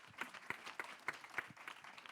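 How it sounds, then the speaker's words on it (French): Sparse applause from an audience at a space-themed event at the Cité de l'Espace, individual claps landing in a loose, fairly steady rhythm at moderate distance, quiet and thin rather than a full ovation. "On peut l'applaudir pour son soutien et son accueil."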